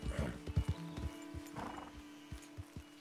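A horse in the video game Red Dead Redemption 2 neighs and its hooves clop in a quick burst of close steps, then a few slower, softer footfalls follow.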